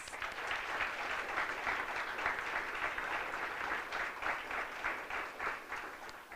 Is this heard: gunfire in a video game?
no